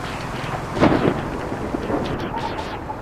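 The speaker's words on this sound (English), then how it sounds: "we got some thunder up there and we have some lightning above me" Thunder during a typhoon in the Philippines, a loud rumbling clap swelling near the start and rolling off over a bed of steady rain.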